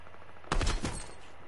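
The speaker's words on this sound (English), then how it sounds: "I hear sniper shots." Sniper rifle fire in a video game: a sudden, loud cluster of sharp shots lasting under half a second, then a fading tail of softer reports, with no talking.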